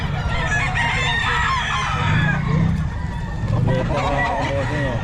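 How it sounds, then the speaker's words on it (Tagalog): An 11-month-old rooster of about three kilos crows and clucks at a busy pet market in Bocaue, its calls close and repeated beneath people talking nearby. "Maganda ng manok."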